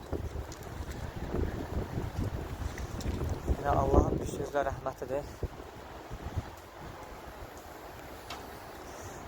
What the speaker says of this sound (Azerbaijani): bu vaxtı belə yağış, külək görməmişəm